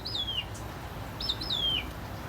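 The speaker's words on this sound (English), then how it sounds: "So those birds are really loud." Birds outdoors in a garden give a few thin, high descending chirps, one call and then a pair, moderately loud over faint background hiss.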